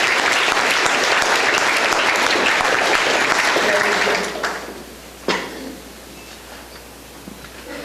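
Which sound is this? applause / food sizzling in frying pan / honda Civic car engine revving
applause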